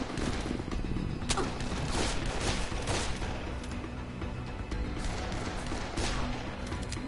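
Rapid volleys of gunfire from the zombie game Dead Island, with dense, overlapping shots fired in quick succession throughout, loud and close, over a constant low background rumble.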